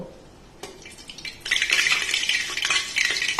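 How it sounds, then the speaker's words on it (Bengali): Whole garam masala is stirred into hot white oil and ghee in a pot for pulao. Quiet at first, then a spoon scrapes and the spices sizzle, growing louder and steady after a moment. "এবারে আমি গোটা গরম মশলাগুলো দিয়ে দিলাম দিয়ে একটু নেড়ে নেব"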